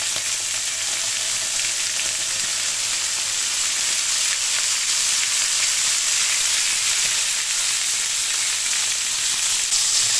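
Lamb chops with garlic sizzle in oil on a hot griddle, a dense, steady crackling hiss running unbroken and close for the whole stretch, with no talking.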